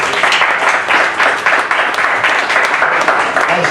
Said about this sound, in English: Let's give another round of applause to Quentin Moore.